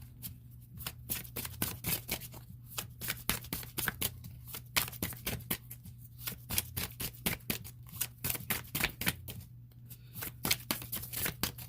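Tarot cards being shuffled quickly and repeatedly, a rapid ruffling patter close by, with a low steady hum underneath.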